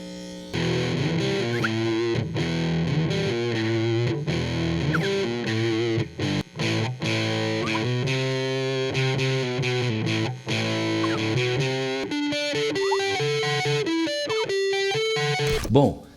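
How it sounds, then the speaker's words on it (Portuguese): Cheap electric guitar through a distortion effect plays a riff of chugging, fuzzy chords and notes, loud and continuous with brief pauses, ending on a sharp burst. "Agora vamos testar com a distorção."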